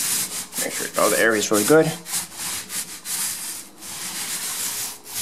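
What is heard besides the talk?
paint roller rolling screen paint onto a wall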